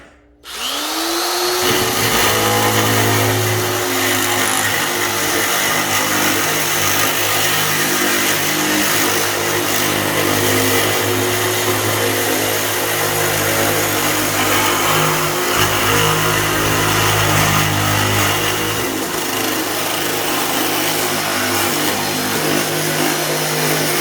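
A power sheet metal shear whines up to speed and runs continuously, a loud steady motor drone with a grinding cutting buzz through the metal, no pauses for nearly the whole stretch.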